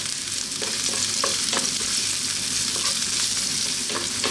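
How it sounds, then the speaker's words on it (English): Chopped onions fry in olive oil in a pan over medium heat, a dense, steady sizzle with occasional soft scrapes and taps as they are stirred, close and constant throughout. "I've got some olive oil in there, and we're going to start by dropping in our onions"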